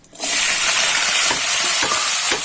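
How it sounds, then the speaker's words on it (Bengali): Small fish fry in a hot pan with a loud, dense sizzle that rises sharply at the start and holds steady and close, with faint scraping accents. "মাছ দিয়ে ভাজা হবে"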